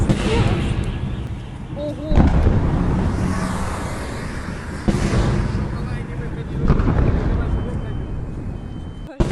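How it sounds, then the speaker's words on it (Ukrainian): Shelling in Enerhodar: gunshots and mine explosions come in quick succession, heavy booming impacts at roughly two-to-three-second intervals over a dense, rumbling background, with a voice talking throughout. "На відео, знятому місцевими мешканцями, днями чутно постріли та вибухи мін із зовсім коротким інтервалом."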